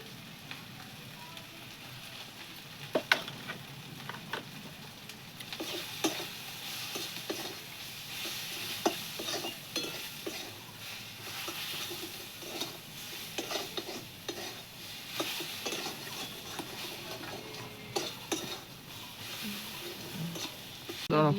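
Masala paste with turmeric sizzles in a pan for a Bengali aloo dum, with a spoon scraping and clacking through it in irregular strokes over a steady, moderately loud hiss.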